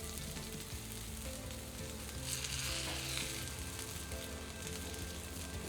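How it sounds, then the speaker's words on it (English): Shrimp frying fast in a hot pan on a stovetop burner, a steady close sizzle throughout that swells briefly in the middle, with no talking. "these shrimps are going to cook some kind of fast."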